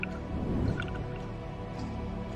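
The Bloop, an ultra-low frequency ocean sound recorded in 1997: a steady, murky underwater rumble with a brief swelling low surge near the start, heard alone without any talking.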